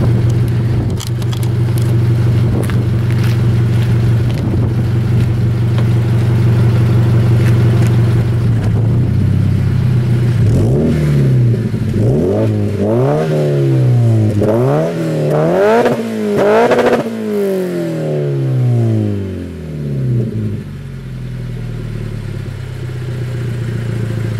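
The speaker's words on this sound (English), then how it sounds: "I'll go ahead and let you hear the exhaust now." A car's loud Borla straight-pipe exhaust idles with a deep rumble, then revs repeatedly in sharp rising and falling bursts before settling back to idle.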